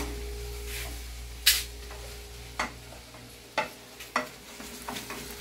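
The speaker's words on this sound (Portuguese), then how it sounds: "aqui já deu uma boa fritadinha, né, Leite?" Sausages frying in a pan for a macaroni-and-sausage lunch, a steady sizzle with several sharp scrapes and clacks as they are stirred, no talk over it.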